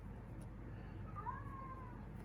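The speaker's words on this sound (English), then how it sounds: "Hey, Thomas, you maybe are hearing my cat crying out for the bird outside the window" A cat crying out at a bird outside a window, one drawn-out wavering meow, faint and somewhat distant in a quiet room.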